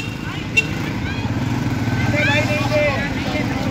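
A tractor engine chugs steadily nearby in a rural area during a winter clothing distribution, a low continuous rumble running under loud, overlapping shouting voices.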